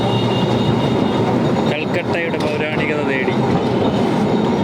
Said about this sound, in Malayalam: എവിടെ വേണമെങ്കിലും നിർത്തിക്കൊടുത്ത് ആണ് ഈ ട്രാം മുൻപോട്ട് പോയിക്കൊണ്ടിരിക്കുന്നത്.